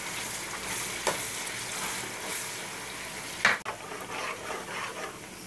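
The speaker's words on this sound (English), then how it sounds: "I'm going to fry this onion for a little while." Onion frying in a pan for a Cameroon-style eggplant (garden egg) dish, a steady quiet sizzle with a couple of brief sharp stir or utensil knocks partway through, no talking.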